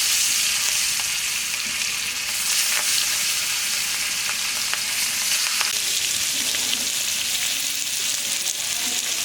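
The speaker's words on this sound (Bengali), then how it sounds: "মাছটা দিয়ে দিব তৈলে।" White pangas fish coated in turmeric, chili and salt frying in hot oil, giving a loud, dense, continuous sizzle that holds steady from start to finish with only faint stirring underneath and no speech.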